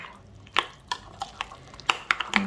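Shallots with mustard and cream stirred in a pan, a spoon scraping and clicking against the metal in sharp irregular taps over a soft, steady background.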